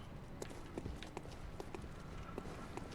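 Horse hooves clip-clop in a steady, quick rhythm of sharp knocks, fairly faint against a background rumble, with no voices, in the video game Bloodborne.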